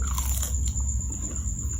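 Crisp bites into fried banana fritters coated in rice and wheat flour batter with sesame seeds, giving a few close, crunchy snaps followed by steady chewing over a low background hum.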